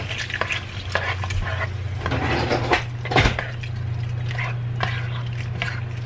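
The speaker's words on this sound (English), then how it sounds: "I'm gonna go ahead and start adding the liquid" Liquid poured into cooked flour in a pan while making chicken pot pie: steady stirring and sizzling, utensil scraping against the pan, and a low hum in the background.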